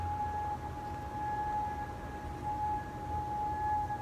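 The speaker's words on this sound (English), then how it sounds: "They're hearing a weird ringing slash hum sound." Mysterious ringing hum heard in central Edmonton, a steady unbroken high tone with a fainter higher overtone, constant and moderately quiet over low background noise, with no voices.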